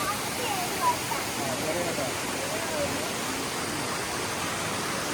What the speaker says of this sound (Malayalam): നൂല് പോലൊരു വാട്ടർഫാൾ കണ്ടോ